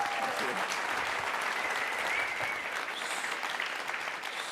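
Audience applause at a live stage event, dense and steady from start to finish, filling the room with a continuous wash of clapping that eases slightly near the end.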